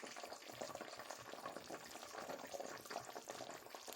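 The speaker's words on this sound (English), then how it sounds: "it is bubbling, making all kinds of sounds" A grease and cornstarch mixture bubbles in a pan, giving a steady, moderately quiet crackling sizzle with dense small pops throughout, heard alone with no voices.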